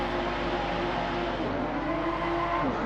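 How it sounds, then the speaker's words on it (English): Race car engines revving on the starting grid of an Open Series race at Laguna Seca, a steady, loud, dense roar with pitch rising and falling as several cars rev together. "They're revving their engines."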